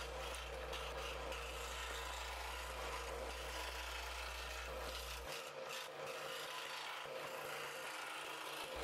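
Scroll saw cutting through wood, sped up, giving a steady, dense rasping buzz that runs continuously and close, with a low motor hum that drops away partway through.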